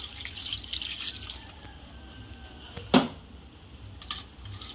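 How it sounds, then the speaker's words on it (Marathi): Cold water pours from a tap into a pot of boiled soybean chunks in a home kitchen, a faint, steady hiss with one brief louder splash partway through. "आता यामध्ये थंड पाणी टाकायचं आहे"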